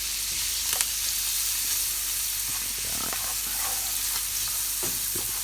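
Spinach and garlic sizzle in a frying pan, a steady close hiss of frying broken by soft scraping and stirring knocks, with no voices.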